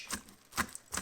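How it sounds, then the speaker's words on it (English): A small whisk mashes dark chocolate chips in a bowl, making three short, soft tapping clacks spaced unevenly and heard close and quiet. "We're going to take a little whisk and then we are going to just mash"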